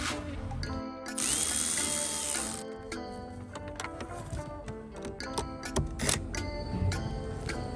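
A ratchet tightens the battery terminals on a 2012 Mercedes-Benz GL450 with close, quiet runs of rapid clicks, joined near the start by a brief high whine.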